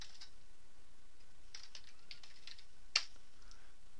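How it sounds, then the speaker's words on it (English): Brief, quiet typing on a computer keyboard, a handful of soft key clicks with one sharper tap, close up against a faint background hiss. "We'll just click on the search box and type"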